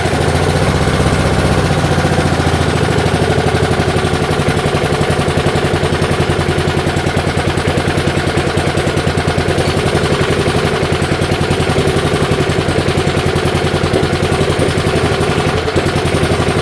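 A 1978 Allis Chalmers 19-inch lawnmower engine that has sat for ten years runs steadily and loudly throughout, with a rapid, uneven putter from a carburetor that seems faulty, and no voices.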